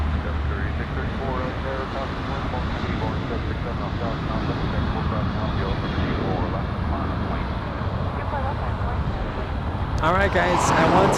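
A Norse Atlantic airliner departs LAX for Athens, its steady jet roar loud and continuous throughout and swelling slightly near the end, with someone talking over it.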